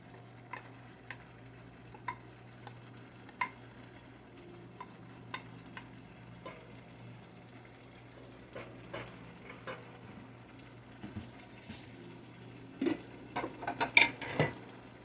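Deboned chicken meat fries in a pan at home, a low steady hum under sparse soft sizzles and scattered ticks and clicks of stirring that grow busier and louder toward the end.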